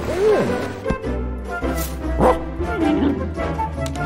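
A dog barks and yips several times close by, with whiny, higher-pitched woofs spread unevenly over a few seconds.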